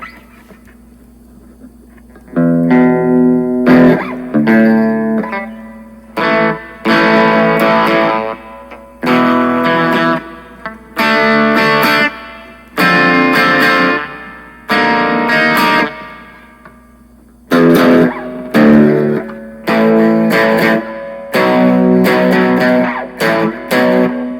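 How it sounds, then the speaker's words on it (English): Electric guitar chords played in short bursts through a BOSS Katana Mini X amp, each strum trailing a splashy, boingy spring reverb tail between pauses. "Next is spring reverb."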